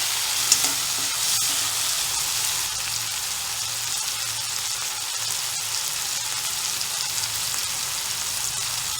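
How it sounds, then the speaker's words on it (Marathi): Tomato being stirred into onion frying in a pan, a loud continuous sizzle with dense crackling hiss and a few faint scraping strokes, no voices. "कांदा शिजलाय, त्यात आता टमाटा, मिक्स करून घ्यायचं।"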